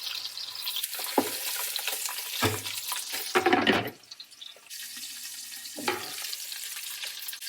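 Oxtails searing in a hot pan and being turned with a utensil, producing bursts of sizzling and spattering, with scraping and clunks as pieces are flipped, rising loudly around the middle and dropping to a softer steady fry afterward.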